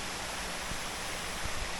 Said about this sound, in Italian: Questa intanto è la cascata Spolverona